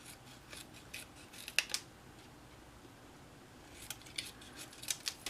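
Scissors snip through paper window sheets for a Stampin' Up pop-up card, cutting them into strips: quiet close crisp cuts in two short bursts, with a pause between them.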